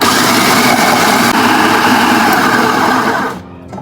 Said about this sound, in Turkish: Hepsini bir güzel robottan geçiriyorum.